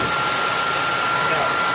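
A Shizuoka AN-S vertical machining center spindle spins at speed, giving a steady, smooth whir with a constant high tone, unbroken throughout.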